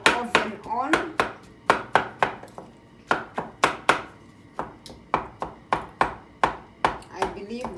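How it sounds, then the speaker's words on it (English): Strawberries are mashed with a cooking stick for jam, producing a rapid series of sharp wooden knocks against the pot, evenly paced and close with no talk. "I'm using a cooking stick to mash this"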